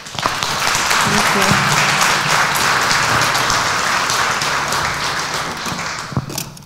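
A college speaker-series audience gives a full round of applause. It is loud, dense and sustained for several seconds, then tapers off as a voice briefly speaks near the end.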